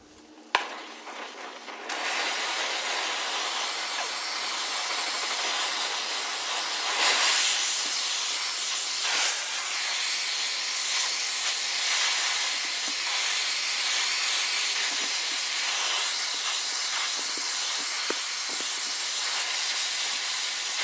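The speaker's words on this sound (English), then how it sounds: "put acetylene soot on there, and then when the soot burns off, then you're at a pretty good preheat" An acetylene torch flame hisses steadily and loud while preheating a grinder shaft for keyway weld repair, after a few brief clicks and a pop as it lights, with no talk.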